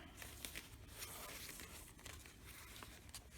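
Sheets of paper, graph paper and coffee-dyed paper among them, are handled up close for a sewing journal. Soft, steady crinkling and rustling runs throughout, with small crisp crackles scattered through it.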